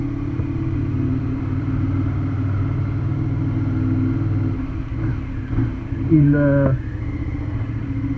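A Suzuki Gladius 650 motorcycle idling and rolling in a garage, a steady low rumble that briefly swells with a rising rev near the end, while someone speaks a word over it.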